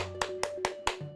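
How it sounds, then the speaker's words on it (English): A few sharp hand claps ring out in quick succession, four crisp evenly spaced claps followed by a softer fifth, close and fairly quiet. "I think Brooks deserves a round of applause."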